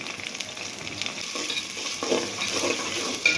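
Meat roast fries in a large pan with ginger paste, a steady crackling sizzle broken by scraping stirs, close and fairly quiet, with no voices.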